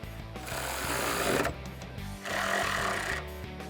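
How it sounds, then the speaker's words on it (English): Tightening step bar bracket bolts on a 2019-2021 RAM 1500 with a 13 mm socket, heard as a loud buzzing rattle of a powered driver in two long bursts with a brief pause between. "Now you can grab your 13 millimeter socket and tighten them down."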